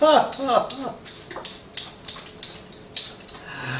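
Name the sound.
peeling carrots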